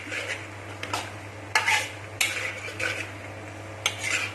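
Chilli chicken being stirred in a pan on high heat, with a metal spoon clanking and scraping against the pan in irregular strokes over a steady low hum.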